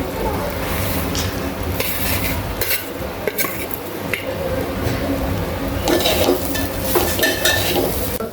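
Fresh grated coconut and jaggery for modak filling are stirred in a pan with ghee, a steady soft scraping and squishing with light sizzling and occasional clinks of the spoon against the pan.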